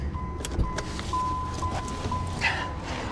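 A wrecked Porsche Boxster engine cranking over without catching, a steady whirring starter drone that runs nearly the full stretch, close and fairly loud, with a faint whine over it.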